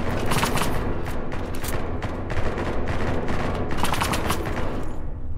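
Rapid bursts of automatic gunfire from a shooter video game fire in quick clusters, loud and close throughout, with no voices over them.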